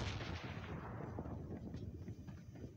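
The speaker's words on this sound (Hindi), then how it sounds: "वो ये क्या यार हल्की से फायरिंग होगी।" Distant gunfire in the battle royale game PUBG Lite, a faint, low rumbling series of far-off shots and booms that continues steadily with no voices over it.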